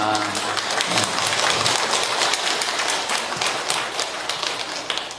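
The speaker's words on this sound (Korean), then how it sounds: "박수 치는 거 보니까 갖다 줄 의사가 있나 본데?" An audience at a Catholic priest's lecture breaks into dense, continuous clapping that runs throughout, with voices mixed into the crowd noise.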